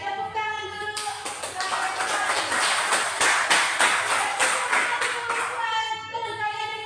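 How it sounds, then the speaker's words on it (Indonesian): Classroom students clapping for a classmate, sharp individual claps in rhythmic bursts rising after a teacher speaks and fading as talk resumes at the end. "Ya, tepuk tangan dulu."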